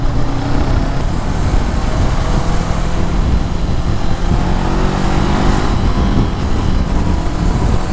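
A 2021 BS6 Honda 500X motorcycle engine on the move, a steady, loud drone blended with wind rush and road noise throughout, with no clear revving changes.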